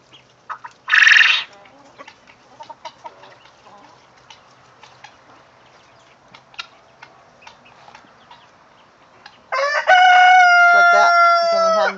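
A guinea hen and chickens call loudly in a short squawking burst near the start, then a quiet stretch of faint scratching and clucks, then a longer loud burst of calling toward the end in a backyard poultry pen.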